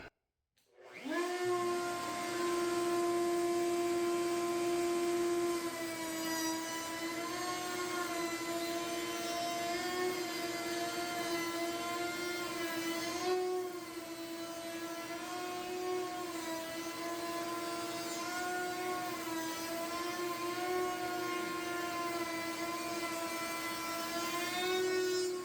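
Router motor spinning up and cutting a groove along a wooden shaker-style cabinet door, a loud sustained high whine with a steady tone that dips slightly under load, close and alone without speech.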